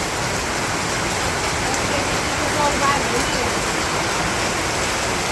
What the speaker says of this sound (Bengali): আজকে মনে হয় বন্যা হয়ে যাবো বৃষ্টিতে